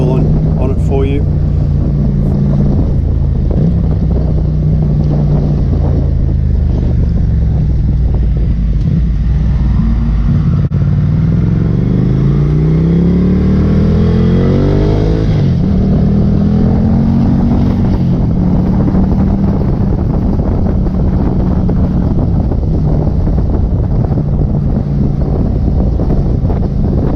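A Ducati Scrambler Cafe racer motorcycle rides along with a loud, steady engine note that rises and falls through gear changes, heavily buffeted by constant wind roar over the microphone.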